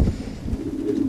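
Pigeons coo in a racing pigeon loft, a low throaty burbling that swells and repeats close by over steady background murmur.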